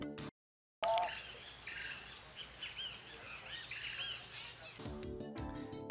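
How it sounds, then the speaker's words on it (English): A turquoise-browed motmot, the torogoz and national bird of El Salvador, gives faint repeated chirping calls outdoors, mixed with other soft bird and insect sounds after a brief dropout. "The torogos, also known as the turquoise brown motmot, is the national bird of El Salvador."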